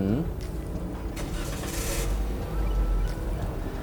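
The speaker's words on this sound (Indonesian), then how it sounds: "Pertama, perbedaannya adalah kita nyalakan dulu mesinnya." A car engine is started and settles into a steady idle during an inspection of a used operational car that is being checked for vibration at the engine mounts; a continuous low rumble persists alongside speech.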